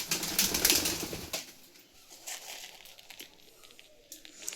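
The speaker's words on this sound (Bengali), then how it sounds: "একটা ডানা কাটা পায়রা চলে এসেছে" A pigeon with clipped wings flaps in, a brief flurry of close wing beats at the start, then fades to quiet room noise with only a few faint rustles and taps.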